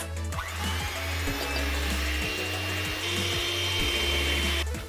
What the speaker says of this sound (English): I'm going to turn on my whisk and we're going to get to it